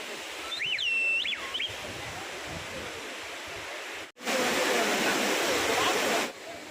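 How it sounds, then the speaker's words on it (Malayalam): Water from a lake pours over a rocky cliff at a waterfall in Kodaikanal, making a steady rushing roar. A few high whistling chirps come early, and the sound cuts off briefly midway. "ആ തടാകത്തിൽ നിന്നുള്ള വെള്ളമാണ് ഈ പാറക്കെട്ടിലൂടെ ഒലിച്ചിതാവുന്ന ഈ വെള്ളച്ചാട്ടം"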